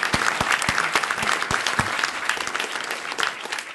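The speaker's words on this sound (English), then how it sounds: "he deserves an applause" An audience applauding at an exhibition opening-day panel for Battlestar Galactica; a dense, loud round of clapping from a crowd, steady throughout and close.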